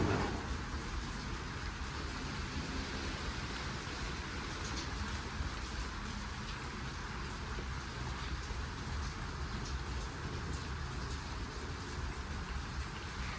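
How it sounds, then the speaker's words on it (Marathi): Steady, dense rainfall in a village pours down on surfaces, close and constant, with no voices. "घरातली सगळी कामं होत नाही तोपर्यंत पावसाला सुरुवात झाली."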